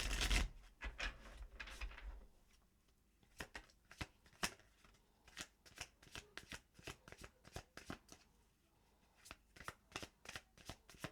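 Tarot cards being shuffled by hand during a reading, with a brief loud rustle at the start followed by a long run of crisp, rapid card flicks and riffles, close and clear with no talk.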